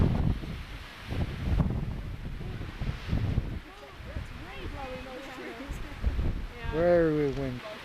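Wind buffets the microphone with a steady rush at a New Mexico overlook more than 10,000 feet up above a valley, and people talk over it.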